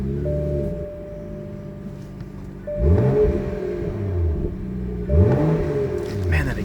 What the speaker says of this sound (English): Man, that exhaust sounds great.